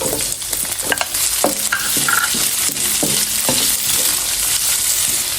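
Chopped garlic and onion sauté in a pan for a pinakbet, a steady loud sizzle broken by repeated clinks and scrapes of a utensil stirring, with no voices.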